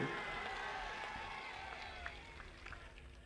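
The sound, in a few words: crowd applauding at political rally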